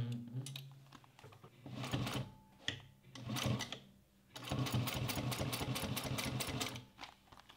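A Juki 1541s sewing machine runs a quarter-inch seam in steady bursts, its rapid needle rhythm stopping and restarting, with a longer continuous run near the end, close and fairly loud.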